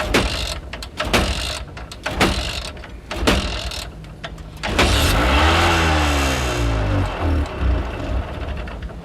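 Repeated cranking of a broken-down scooter that won't start, several short starter bursts separated by pauses, then a longer sputtering engine sound that rises and wavers before dying down, part of a radio play.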